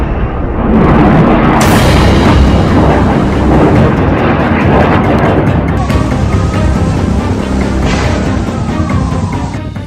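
Heavy bombardment around hospitals in Gaza produces continuous loud rumbling blasts and booms, a dense, roaring barrage with sharper hits, near and overwhelming throughout.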